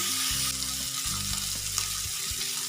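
A tomato stuffing filling is stirred and fried in a pan, giving a dense, continuous sizzle with low steady hum underneath and occasional faint utensil touches. No talking.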